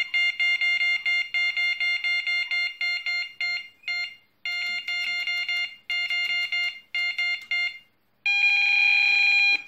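Fishing bite alarm with a swinger indicator sounding rapid, loud, high-pitched electronic beeps in quick bursts, pausing briefly before a final sustained continuous tone.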